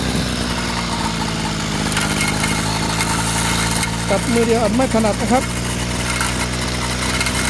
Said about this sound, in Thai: ก็ตัดดีนะครับ กับเครื่องตัดหญ้า มิสุบิชิทีสองร้อยนะครับ